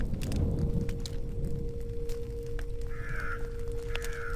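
Crows caw in a churchyard scene from The Lost Crown video game, a few short calls rising over a steady low hum and rumbling ambience, moderately faint and without speech.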